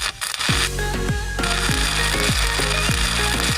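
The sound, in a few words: forging heated iron into a ring by hammering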